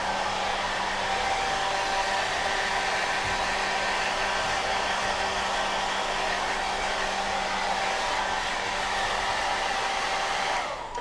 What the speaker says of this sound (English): And always keep a hair dryer moving.